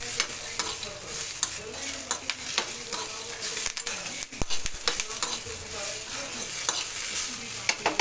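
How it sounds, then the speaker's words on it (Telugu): Curry leaves fry in a pan of hot oil, giving a dense, continuous crackling sizzle with frequent sharp pops, close and fairly loud for the whole stretch. "ఇట్లా కరివేపాకు కూడా వేసుకొని ఫ్రై చేసుకోవాలి."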